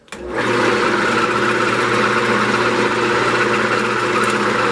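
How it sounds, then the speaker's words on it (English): A woodturning lathe spins a wooden bowl as a scraper smooths away tool marks, giving a steady, continuous whir and hiss with a low motor hum, close and even throughout with no pauses. "I'm just going to start kind of scraping this down, removing the little tool marks and stuff"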